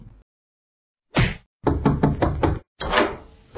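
Sharp knocks on a door come close and loud: a single rap, then a quick run of about five raps, then another heavy knock, set off by short silences.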